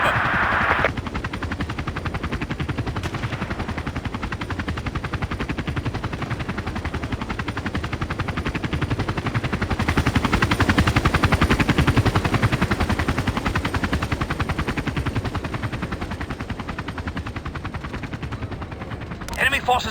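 Helicopter in the video game Battlefield 2 Special Forces, a rapid steady rotor chop running throughout at close range, mixed with gunfire and occasional radio-style voices.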